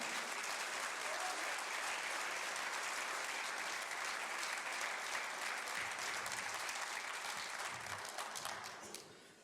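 A church congregation claps in sustained, dense applause for the Lord, a steady roar of many hands that fades out near the end.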